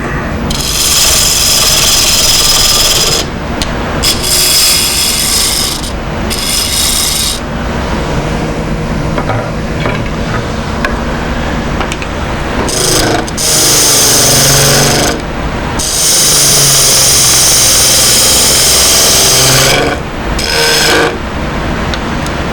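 A wood lathe turns a segmented wooden bowl, with loud bursts of a tool cutting and scraping the spinning wood separated by quieter stretches where the lathe hums on its own.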